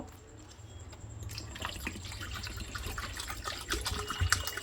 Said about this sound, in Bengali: তো এবার বাকিটা জল দেব